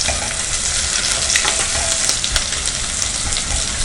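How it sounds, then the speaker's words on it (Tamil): Onions fry in oil for a vegetable biryani, a dense, loud crackling sizzle with occasional spatula scrapes and pops, continuous and close-up without any talking. "ஃபஸ்ட்டு நம்ம வெங்காயம் போட்டுக்கலாம். வெங்காயம் நல்லா ஃப்ரை ஆகணும்."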